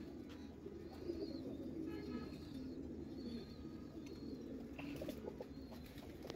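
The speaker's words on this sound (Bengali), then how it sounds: "নর কবুতর এটা, এই সাইড দেখাই" Male pigeon cooing in a pigeon loft, soft low repeated coos in a quiet room, faint and close, with light background rustling.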